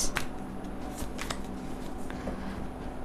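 Tarot cards shuffled close by during a reading, giving a few soft riffling bursts and flicks over a steady low room hum, with no voices.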